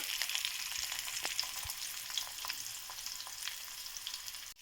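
Onions and black gram dal fry in a pan for an upma-style dish, giving a steady, close hiss with small scattered pops and crackles that hold at an even level throughout.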